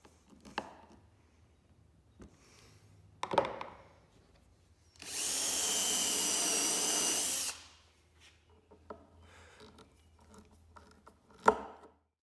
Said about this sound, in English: I pre-drilled the holes using a tapered countersink bit.